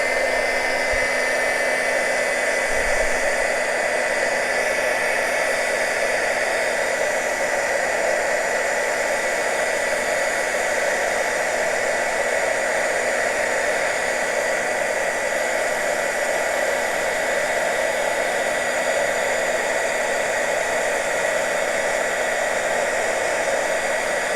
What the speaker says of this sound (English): now I am going to get my heat gun out and do this